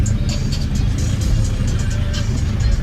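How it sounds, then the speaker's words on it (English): Steady road traffic at a car show, a low rumbling wash of engines with cars rolling past close by and occasional revving, loud and continuous with faint voices mixed in. "Then we have traffic."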